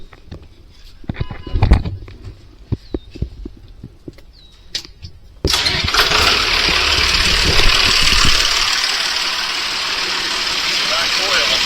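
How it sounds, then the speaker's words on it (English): A tractor engine cranks and catches halfway through, then settles into a steady, loud, rumbling idle close by, after a stretch of quieter clunks and handling noises. "So I'll start the tractor and you can see for yourselves."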